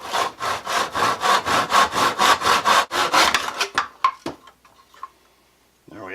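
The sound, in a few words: hand saw cutting a broomstick in a miter box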